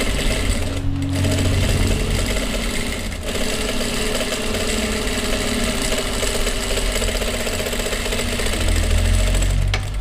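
A sewing machine runs continuously while stitching a second parallel seam when attaching bias binding, a dense steady mechanical whir and rapid clatter, loud and close, with no speech.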